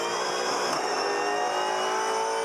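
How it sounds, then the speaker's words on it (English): A Supercars race car spins its wheels on a wet track, a loud, steady high-revving engine howl holding near-constant pitch with a brief burst early on and no talk. "Listen to the wheel spin."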